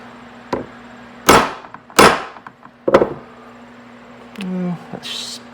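Three sharp hammer blows strike a chisel driven into a metal round, spaced about a second apart and ringing briefly, followed by a short tonal scrape and a faint rustle.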